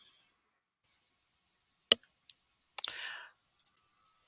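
Several sharp computer mouse clicks, isolated and close, with a brief soft rustle between them in otherwise near silence.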